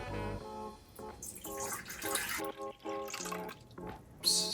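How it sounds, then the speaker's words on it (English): Water poured into a pot over corned beef for pressure cooking, splashing and trickling in uneven bursts close by, with faint voices in the background. "Now I'll add the water."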